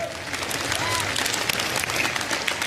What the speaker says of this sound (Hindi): अपने लिए भी तालियां बजा लीजिए आप लोग सबके सब यार.